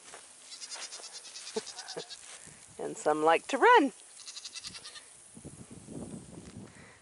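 Goats on a hillside give a few wavering, nasal bleats in a short burst, heard near and clear between stretches of someone talking.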